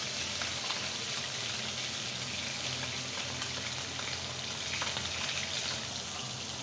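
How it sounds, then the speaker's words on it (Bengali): Fish fries in a pan, making a steady, dense sizzle and crackle of hot oil, close and even in loudness throughout, with no talking. "আমার মাছটা ফ্রাই করা হয়ে গেছে, আমি এখন উঠিয়ে নিচ্ছি।"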